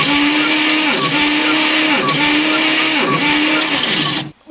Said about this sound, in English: let's turn over the engine.